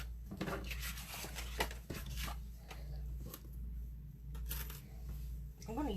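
Cardstock being scored on a scoreboard tool, with scattered short scraping and tapping strokes of paper and tool close by, heard under a person talking.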